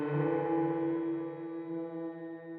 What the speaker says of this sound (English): Spring reverb, I like that on guitars.